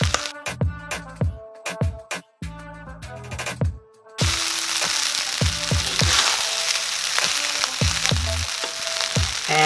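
Scallions go into Guyanese Chinese fried rice: after a few seconds of metallic utensil taps, a loud steady sizzle takes over and continues to the end, punctuated by stirring and scraping knocks.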